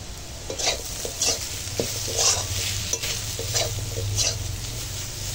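Sweet pumpkin cooks in a pan over a fierce flame, a steady sizzle broken by repeated scraping stirs of a spatula at a close, moderate level, with no voices.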